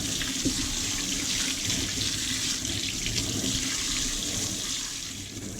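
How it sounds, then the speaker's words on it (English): Dock leaf stalks rinsed under a running kitchen tap, a steady, close splashing rush of water that continues without a break and eases slightly at the very end. "Give them a wash, like you always do with the salad and stuff."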